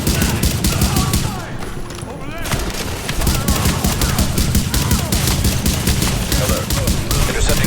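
Dense, continuous gunfire from the video game The Division, rapid automatic bursts and overlapping shots firing loud and close throughout, with voices faintly mixed underneath.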